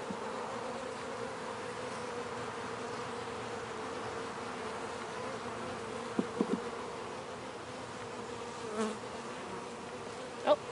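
Honeybees buzzing steadily around an opened split hive, a continuous close, even drone with a few faint clicks and knocks of frames, no talk.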